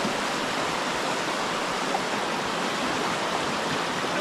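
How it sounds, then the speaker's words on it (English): Constant rushing water of a fast-flowing creek in Alaska in springtime, a dense, even roar with no pauses, close and fairly loud. "This creek is running pretty fast."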